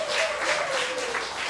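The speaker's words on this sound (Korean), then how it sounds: "박수." A short burst of congregation applause during a church sermon, a soft, dense patter of clapping that swells briefly and fades within a couple of seconds.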